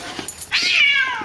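A cat gives one drawn-out, loud meow that rises and then falls slowly, close by, after a few faint soft sounds. It sounds protesting, as a cat might while someone tries to dress it up in a costume.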